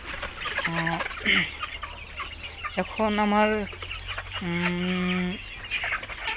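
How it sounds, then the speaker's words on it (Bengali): Chickens cluck and squawk in short bursts close by in a poultry shed, with a brief spoken phrase in between and steady background hum. "এখানে 300 আছে মুরগি, এই দিকটায় আমার 300 মুরগি আছে।"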